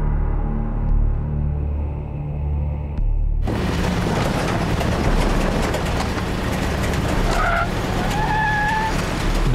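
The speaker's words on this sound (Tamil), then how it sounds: "டொக்கு வண்டி வச்சுட்டு யூஎஸ் ஸ்பீட்ல வரா." A beat-up car speeding and skidding during a movie chase scene: a low engine rumble suddenly bursts into a loud, sustained roar and tire screech, with high squealing tones cutting through near the end.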